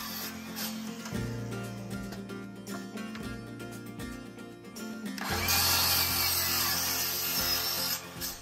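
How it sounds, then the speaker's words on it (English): Power drill boring holes through wooden boards cut with 45-degree ends for camper stabilizers, a close, steady whirring grind with a louder, harsher stretch toward the end as the bit bites through the wood. "I drilled a hole through each board for the eye hook"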